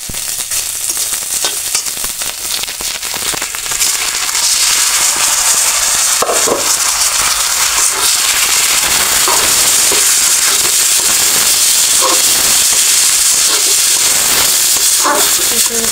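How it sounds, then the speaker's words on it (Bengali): Rice sizzling and frying in a pan with ginger garlic paste, a steady loud hiss running throughout with occasional stirring scrapes. "সুন্দর করে চালগুলো একটু ভালো করে ভেজে নিতে হবে, সুন্দর করে একদম লালচে লালচে করে।"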